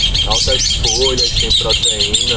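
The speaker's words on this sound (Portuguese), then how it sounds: "Olha os pássaros cantando" Birds chirp and sing outdoors in the high range throughout, a steady twittering chorus heard beneath someone speaking in the foreground.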